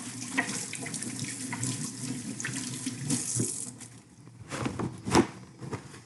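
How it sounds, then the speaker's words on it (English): Tap water runs steadily into a kitchen sink while hands are washed before cooking a frittata, a continuous close splashing with brief louder surges and splashes toward the end. "First thing I'm going to do is wash my hands"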